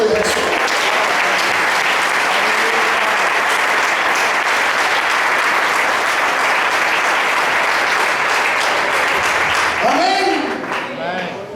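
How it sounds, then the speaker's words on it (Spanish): A church congregation claps loudly and continuously for about ten seconds, dense and close, before it breaks off and a voice speaks at the end. "Aplauda el nombre de Jesús."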